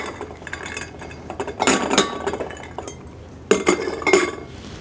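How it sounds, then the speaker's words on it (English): Dried black beans poured into glass jars, rattling and clinking in a few dense bursts against the glass, with quieter scattered clinks between them. "we're going to fill up our jars a little over halfway with our black beans"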